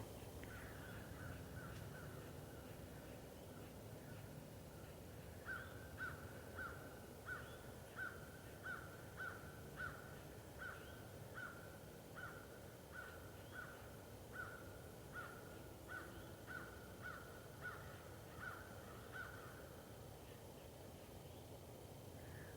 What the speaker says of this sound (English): do y'all hear the crows?